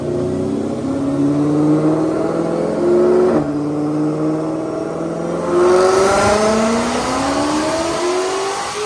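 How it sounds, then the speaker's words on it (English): A supercharged 2020 Ford GT500 running E85 and making roughly 1,000 horsepower does a full dyno pull. The engine note climbs steadily through the gears, loud and close, with short drops at each shift and no talking. "Check out this dyno pull."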